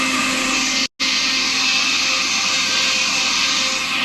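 A kitchen mixer grinder whirs loudly as its jar grinds masala spices including poppy seeds for cauliflower kurma, a steady high-pitched motor roar with one brief stop and restart.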